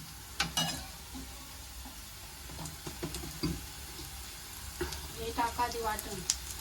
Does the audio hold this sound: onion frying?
yes